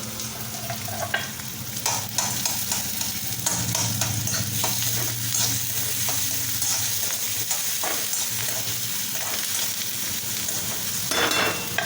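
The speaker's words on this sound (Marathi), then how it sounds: "कांदा चांगला लाल होऊ देऊ आपण" Onions frying in a pan, stirred again and again, with a steady sizzle throughout and the clatter of a utensil scraping the pan in short bursts. The sound is close and continuous, and nobody speaks.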